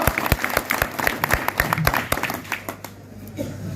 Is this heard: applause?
yes